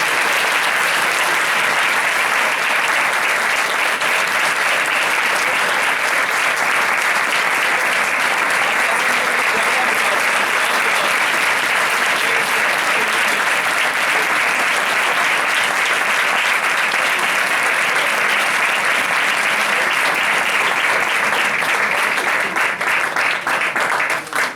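A church congregation claps loudly and continuously, a dense, unbroken wash of applause from many hands that holds steady for over twenty seconds.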